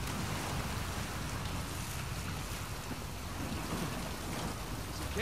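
Steady, dense rush of a waterfall in the video game Uncharted 4: A Thief's End fills the whole stretch, a continuous broadband roar with no voices.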